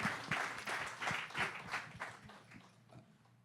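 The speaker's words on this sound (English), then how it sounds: "So just give a round of applause." A small audience gives a short round of applause, individual claps distinct and close, starting strong and gradually thinning out and fading over a few seconds.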